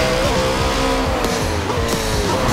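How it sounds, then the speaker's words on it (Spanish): Car in the Car X Drift Racing video game sliding out of control on a curve, a loud, continuous engine roar mixed with tire squeal and skidding, without pause. "una vez más en esta curva he perdido control de mi auto"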